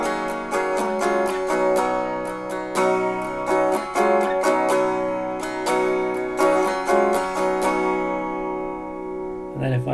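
Clean electric guitar, a Fender Jazzmaster through an EHX LPB-1 booster pedal, plays ringing notes and chords at a moderate pace, bright and sustained, with no one speaking.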